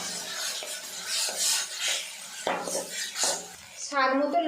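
Grated tomato fries with curry leaves and green chillies in a pan, where a utensil scrapes and clinks while stirring over a soft sizzle, followed by a brief voice at the end.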